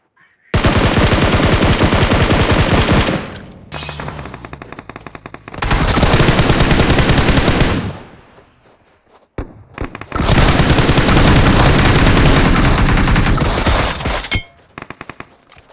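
Bursts of automatic gunfire from the BGMI battle royale game ring out in long, dense, loud volleys separated by brief pauses, with a few scattered shots at the end.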